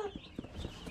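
Young chicks, part of a flock of 45-day-old chickens being fed, give a few short, close peeps and clucks over a low background murmur.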